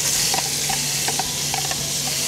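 Bacon fries in a little hot oil in a pan, giving a steady, close, even sizzle with faint stirring clicks and no talking.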